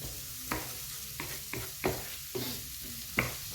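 Onion frying in a pan for cheesy bacon pasta: a soft, steady sizzle broken by about six sharp utensil scrapes and clacks as the onion is stirred, close and fairly quiet.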